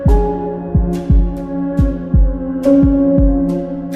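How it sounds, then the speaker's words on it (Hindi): A heartbeat sound effect for a horror story: loud, deep thumping beats repeating at a steady, slightly quickening pace over a low droning hum, with no voices. "रोहित का दिल जोरों से धड़कने लगा।"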